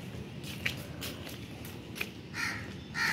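Crows cawing outdoors in a home courtyard where roti is set out for them, several separate harsh calls spaced irregularly over steady background noise, a couple sounding nearer and louder toward the end.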